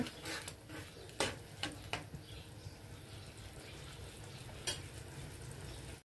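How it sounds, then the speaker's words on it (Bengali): Prawn malai curry bubbles and simmers steadily in a pan, a soft continuous sizzle with occasional spoon stirs and light clinks against the pan, heard up close and alone. "মাছগুলো দিয়ে ভালো করে ফুটিয়ে নেব।"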